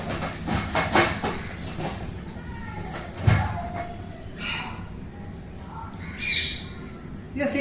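A pressure cooker whistle with a faulty valve releases steam in a home kitchen, giving several short hissing squawks and bursts over a noisy background.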